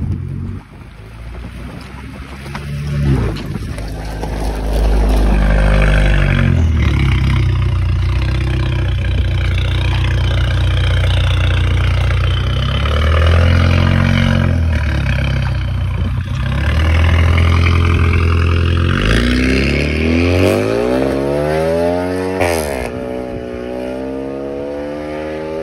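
A Fiat Toro 1.3 flex turbo with a straight exhaust and downpipe accelerates hard, its loud engine drone rising steadily in pitch for about twenty seconds before sweeping up and down near the end, with no talking.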